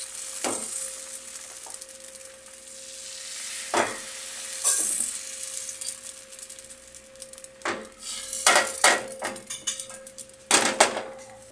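Oat crepe batter cooking in a frying pan, giving a soft continuous sizzle with several scraping and tapping utensil sounds against the pan spread through the clip.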